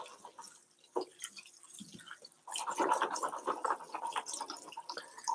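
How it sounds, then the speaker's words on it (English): Drained canned chickpeas rinsed under a kitchen tap: scattered drips and small wet squishes at first, then a steadier stream of running water with splashing over the beans, close and moderately quiet. "And you want to give them a good rinse"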